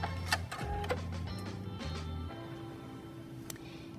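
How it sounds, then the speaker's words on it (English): A Singer 6805C sewing machine's thread cutter button snips the thread, a flurry of small mechanical clicks and ticks over a low motor hum that settles into a softer steady whir, close and quiet. "I'm going to cut the thread with my thread cutter button"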